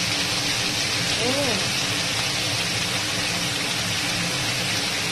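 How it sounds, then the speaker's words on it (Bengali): Potatoes fry in hot oil with cumin, dried chilli and bay leaf, a dense, even crackling sizzle that runs loud and unbroken throughout, close at hand, with a brief murmur of voice partway through. "আলুটাকে এখন ভালো করে একটু ভেজে নেব"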